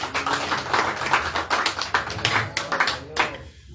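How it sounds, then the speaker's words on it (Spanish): A church congregation claps for Christ, a dense, brisk burst of many hands slapping together in quick uneven rhythm, loud and close, with no talk over it, fading out sharply at the very end. "Palmas a Cristo"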